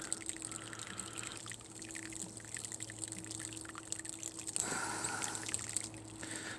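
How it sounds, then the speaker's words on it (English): Water poured into a plant pot holding an Australian finger lime, a steady close pour with a trickling, splashing texture that swells louder near the end. "first thing I'm going to do is just put some water in here"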